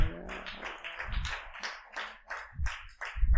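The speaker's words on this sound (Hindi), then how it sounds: "तालियां।" A few people clap in an uneven rhythm, sharp individual claps close by rather than a large crowd's applause.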